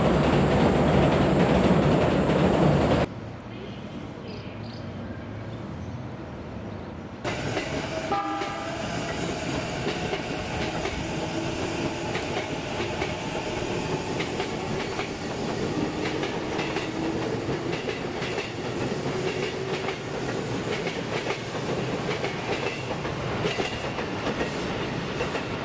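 A train runs on the Chuo East Line, first as a loud steady roar, then after a short drop as a continuous rumble with rail clatter and faint wheel squeal throughout.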